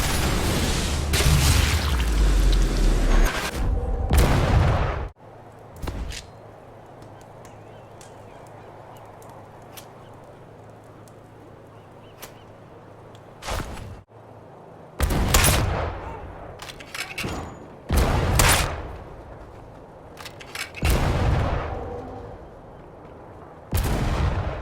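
Heavy naval cannon blasts in the video game Sniper Elite VR boom in separate bursts, some close together, with quieter stretches of low rumble between them.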